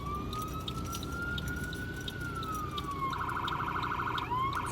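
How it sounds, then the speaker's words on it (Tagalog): An emergency siren from a police car or ambulance on a city street wails with a slow rising and falling tone, then switches to a rapid warbling yelp, heard over steady traffic rumble. "Pulis yan. Ambulansya."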